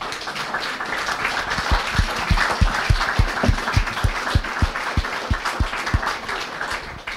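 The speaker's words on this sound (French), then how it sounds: "On peut l'applaudir" A crowd at a talk applauds steadily for several seconds, a dense wash of clapping with some individual claps standing out nearby.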